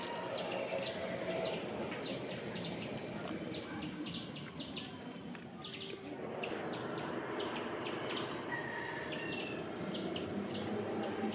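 Rice and lentil washing water trickles steadily onto potted vegetable plants such as gourd and cucumber, a faint continuous pour with birds chirping in the background.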